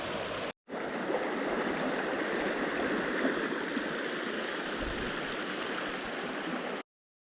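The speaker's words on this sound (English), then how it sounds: "I made it to the rapids, as you can see behind me" River rapids on a small smallmouth bass river rush in a continuous broadband roar, steady and close, with no voices over the water; a brief gap interrupts the start and the sound cuts off at the end.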